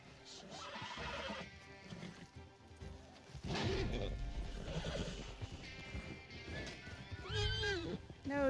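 A horse in the Red Dead Online video game, being tamed, gives several loud whinnies with rising and falling pitch. Hoof clops and scuffling struggle noises come between the calls.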